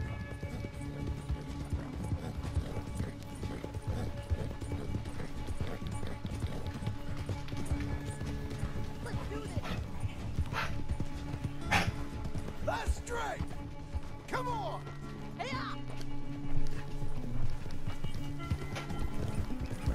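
Horse hooves clip-clop steadily on a farm in Red Dead Redemption 2, a continuous moderately loud rhythm of footfalls while people talk and laugh over it, with a brief whinny.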